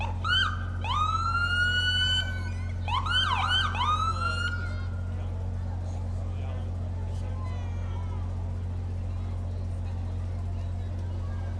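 A police car siren at a downtown Billings holiday parade, a rising and falling wail sounding twice loud and close, then fading under a steady engine hum and crowd noise.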